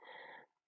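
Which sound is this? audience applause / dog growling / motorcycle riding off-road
dog growling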